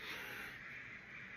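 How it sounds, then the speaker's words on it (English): Crows caw repeatedly in the background, an outdoor chorus of harsh calls running steadily through the whole stretch with no talk over it. "I hear a lot of crows."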